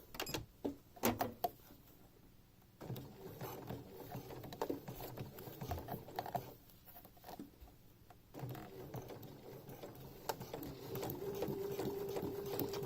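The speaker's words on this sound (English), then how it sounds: "we sew a straight stitch all the way down" A sewing machine runs a straight stitch along ribbon hole trim on fabric, its rapid mechanical whir starting and stopping, then running steadily near the end.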